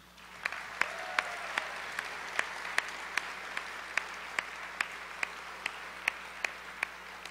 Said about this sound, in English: I would now like to have you please give a round of applause for this group of graduates.